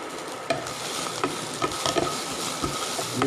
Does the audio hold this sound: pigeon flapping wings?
no